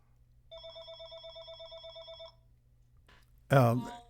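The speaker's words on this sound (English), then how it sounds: "incoming phone call." A telephone rings with a fast electronic trill in one burst of about two seconds, then a voice follows briefly.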